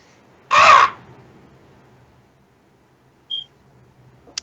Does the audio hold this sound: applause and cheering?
no